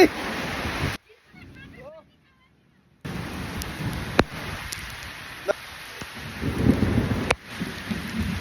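Steady heavy rain hiss with a brief quiet gap, plus a few sharp cracks and low rumbles; a voice calls out over the downpour.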